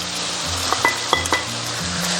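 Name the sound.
chives stir-fried in a hot wok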